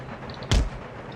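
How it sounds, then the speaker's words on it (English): One sharp artillery shot in Empire: Total War, a Napoleonic-era battle game, sounds as a single loud close boom that fades quickly into low battlefield ambience. "We're getting hit here by his artillery."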